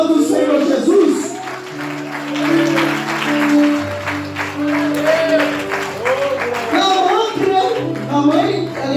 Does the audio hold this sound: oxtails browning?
no